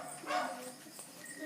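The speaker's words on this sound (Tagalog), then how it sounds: "Umiyak na yung tuta." A newborn puppy cries in thin, high-pitched whimpers and yelps during a dog's birth at home, with faint background noise.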